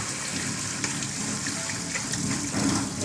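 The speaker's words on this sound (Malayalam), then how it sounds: "അപ്പോൾ അവിടെ നമുക്കൊന്ന് ഇതല്പം വെള്ളം ഒഴിച്ചൊന്ന് ഇതാക്കണം" Water pours steadily into a pan of vegetables cooking on the stove, a continuous close gush with no voices.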